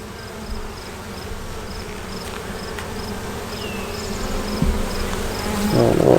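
Worker bees swarm around a hive frame in a steady, close, continuous buzz that swells slightly toward the end, with no talking.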